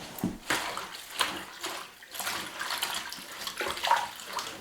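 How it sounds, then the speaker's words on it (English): Poke sallet greens are swished and rinsed in a basin of cold water, with repeated splashing and sloshing bursts close by and no talking. "Mash them back and forth. Just give them a real good cold rinse."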